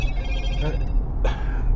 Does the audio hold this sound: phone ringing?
yes